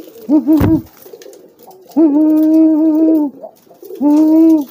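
Deep, drawn-out courtship coos from a pigeon driving its mate, close and loud, three long rolling calls with short pauses between, plus a brief flutter or clap near the start.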